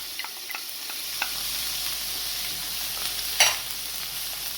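Ginger and garlic frying in a pan for vegetable fried rice, giving a steady close sizzle with light scraping and stirring clicks and one sharper clatter near the end.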